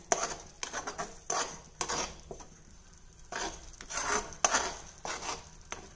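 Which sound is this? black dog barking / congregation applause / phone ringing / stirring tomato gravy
stirring tomato gravy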